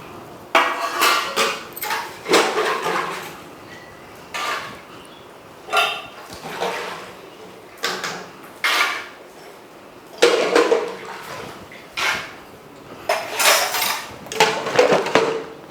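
Metal utensils being scrubbed and washed by hand, bursts of scraping, clinking and clattering of pots and plates in irregular bouts separated by short pauses, close to the listener.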